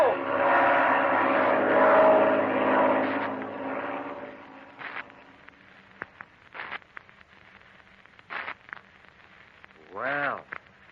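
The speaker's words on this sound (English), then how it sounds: "It sounds like a plane." A propeller airplane drones loudly overhead in an old radio drama, a broad engine roar that swells and then fades away, followed by scattered studio effects and brief voices.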